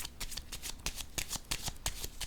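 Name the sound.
tarot card being drawn and laid down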